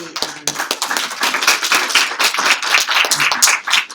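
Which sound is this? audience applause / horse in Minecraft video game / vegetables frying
audience applause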